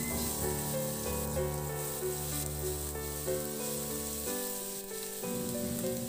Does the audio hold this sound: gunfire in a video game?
no